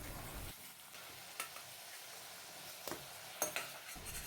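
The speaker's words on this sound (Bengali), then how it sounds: "হালকা করে ভাজবো 2 থেকে 3 মিনিট মাঝারি আছে ভেজে চিংড়ি মাছগুলো তুলে নিতে হবে।" Oil sizzles softly in a pan with a steady frying hiss as shrimp fry lightly, broken by a few light stirring scrapes and utensil clinks.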